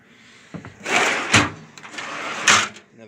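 Drawers of a workshop cabinet slide open and shut in a few quick bursts, each with a sharp knock as it stops, close by and fairly loud.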